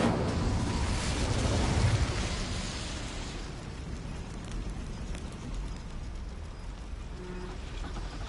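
Incendio fire spell cast in Hogwarts Legacy inside a goblin mine, a loud roaring whoosh of flame that swells in the first two seconds, then settles into a softer crackling rumble that lingers.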